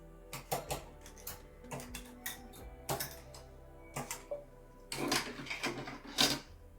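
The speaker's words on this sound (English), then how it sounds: "So I'll just push my needles forward" Needles pushed forward one after another on a 4.5mm standard knitting machine, heard as a quick series of faint clicks and light clacks in irregular bursts, close by.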